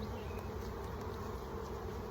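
Honey bees around an opened hive during spring splitting make a dense, continuous buzz, steady and close, with no breaks and no talking.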